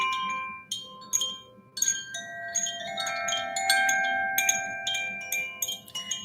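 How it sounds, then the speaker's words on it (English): A meditation chime is struck several times in a quiet room, each soft metallic tone ringing out and overlapping into a gentle, lingering shimmer. "Love the chime."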